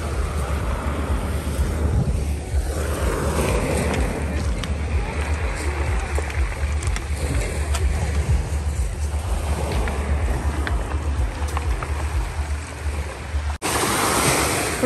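Sea surf washes over a beach of large pebbles at Lazarevskoye on the Black Sea. The waves make a steady, continuous roar that is heavily buffeted by wind noise on the microphone.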